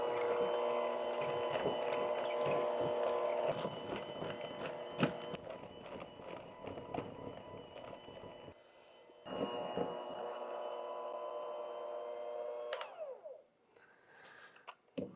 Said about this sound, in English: We're going to use our electric hand mixer. We're going to beat this for about 2 minutes until it's nice and smooth.